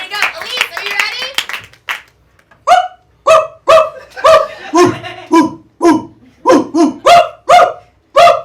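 A dog barks in a run of sharp, loud, close barks, roughly a dozen in quick irregular succession, following a stretch of people talking and laughing.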